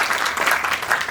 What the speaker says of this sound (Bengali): সবাই একটু করতালি দিয়ে